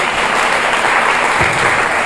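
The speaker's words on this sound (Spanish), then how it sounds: "Denle un fuerte aplauso a Cristo" A church congregation applauding loudly and steadily, a thick wash of clapping from many hands throughout, with no voices standing out.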